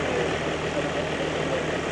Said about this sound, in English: What a lovely, lovely tractor.